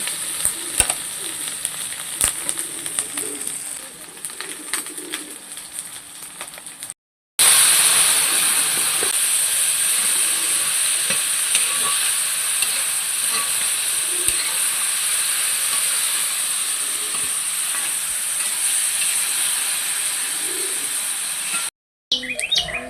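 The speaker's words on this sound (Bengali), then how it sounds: "মা এখন হচ্ছে করলা আলু ভাজি করবে" Bitter gourd and potato frying in an iron wok over a village wood-fired stove, a loud steady sizzle that runs almost unbroken with two short gaps, while birds chirp faintly in the background.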